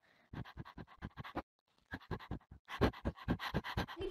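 Dog panting in the Minecraft video game: a quick rhythmic series of breathy pants, then a second longer run after a short pause, close and clear with no talking.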